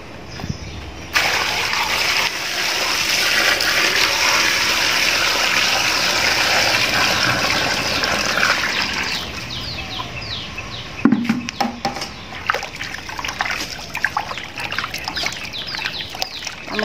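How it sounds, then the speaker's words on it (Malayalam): Running water gushes steadily as potatoes are washed, a close continuous splashing stream that later turns choppier, with scattered knocks and splashes. "ഇത് നമുക്ക് നന്നായിട്ടൊന്ന് കഴുകിയിട്ട് എടുക്കാം."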